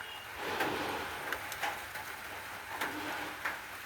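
Steady first-season rain falls over farming country, a dense even hiss with scattered brief louder drops and splatters as the shower builds, heard from close by with no voices.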